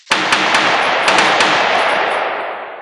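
A single loud, close gunshot striking a steel target, with a sharp crack, a few quick echoing impacts after it, and a long fading ring.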